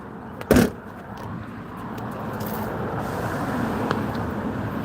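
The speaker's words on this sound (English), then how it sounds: "See some of the morning traffic." Morning road traffic with a steady broadband roar of cars, a brief louder burst near the start as a vehicle passes close, then a continuous moderate rumble.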